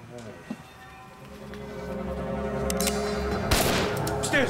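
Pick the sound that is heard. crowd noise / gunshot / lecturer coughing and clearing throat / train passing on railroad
gunshot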